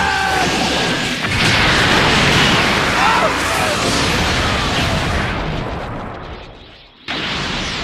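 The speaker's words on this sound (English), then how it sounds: "Special Beam Cannon!" A Special Beam Cannon energy blast tears loose in a loud, sustained roar that swells into an explosive rumble, then fades before a sharp cutoff and a fresh burst of noise.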